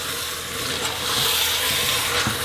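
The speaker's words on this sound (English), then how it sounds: "I'm going to add all the rice in there and give that a stir" Soaked rice stirred into a pot of meat pilau, a steady soft sizzle and hiss of hot liquid with faint scraping movement throughout, close and even, no talking.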